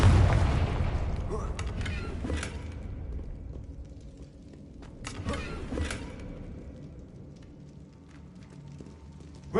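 A Confringo blasting curse explodes in Hogwarts Legacy, an opening boom followed by a few sharp cracking blasts at intervals over a fading rumble, with a voice speaking.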